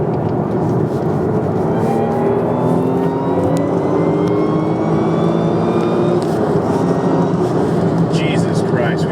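Supercharged Carson S4 engine rising steadily in pitch as it accelerates, a loud continuous whine and roar with gear-change steps, heard from inside the car under people talking.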